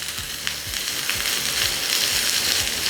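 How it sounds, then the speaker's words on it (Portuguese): Paio sausage fries with softened onion in a pan for a red wine risotto, giving a steady close sizzle with soft rhythmic stirring scrapes throughout. "esse paio vai ter que fritar, ele vai refogar"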